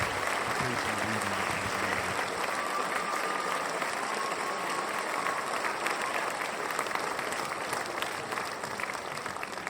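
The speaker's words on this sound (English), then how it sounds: "Another round of applause for the amazing John Van Auken." Sustained applause from a lecture audience for a speaker, dense and steady clapping filling the room at even loudness throughout, with faint crowd murmur beneath.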